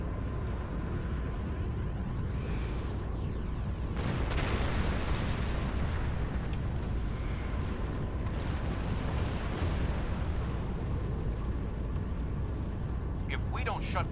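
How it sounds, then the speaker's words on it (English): A starship self-destructs in the Star Trek Online video game with dense, rumbling blasts, swelling into heavier bursts partway through, mixed with game voices. "Voss ship set to self-destruct."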